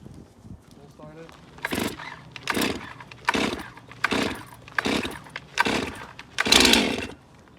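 A chainsaw being started and revved to full throttle with the chain brake off, giving a series of loud, close bursts that rise and drop roughly once a second, with people talking nearby.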